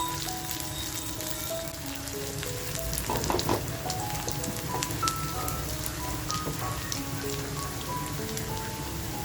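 Onions sizzling steadily in a pan for a mutton curry, a dense crackling fry that runs without a break, with a few soft stirring scrapes and no talk.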